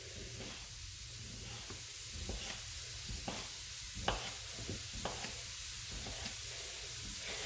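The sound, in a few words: shrimp and sausage browning in a pan for jambalaya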